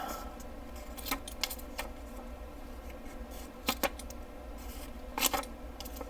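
Several sharp metallic clicks and snaps from a small multitool's scissors and leverage bar closing, slightly grindy, spaced irregularly over a steady low background hum.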